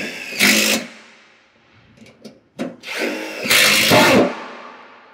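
A Hilti drill bores an anchor hole, sounding in two loud, sustained whining bursts with brief clicks and a short rattle between them, close up and with no talk.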